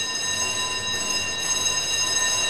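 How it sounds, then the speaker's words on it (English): A fire alarm in the Minecraft Granny game rings continuously as a steady, high electronic tone over a low background hum, with no pauses. "Fire alarm?"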